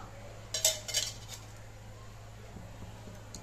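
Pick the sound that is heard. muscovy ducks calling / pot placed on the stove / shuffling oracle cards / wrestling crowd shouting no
pot placed on the stove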